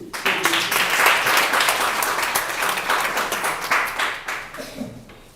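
Audience applause fills an international prayer meeting, a dense, steady wash of many hands clapping that holds for several seconds before thinning out near the end.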